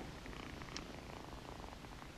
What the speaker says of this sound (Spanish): tan a gusto que podemos escuchar su ronroneo por el micrófono de Marlon Brando